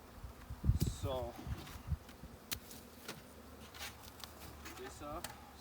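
Honey bees buzz steadily during a backyard bee package install, a soft continuous drone with close passes, while a person talks nearby and handles equipment.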